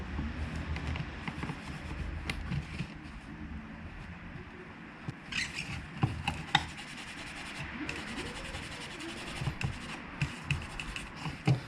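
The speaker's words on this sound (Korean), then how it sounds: "쿨러 쪽도 써멀을 깨끗이 제거하고" Old thermal paste being wiped and scraped off the cooler of a Samsung RF510 laptop, fairly near: steady rubbing and scratching strokes with small irregular clicks, alone without talk.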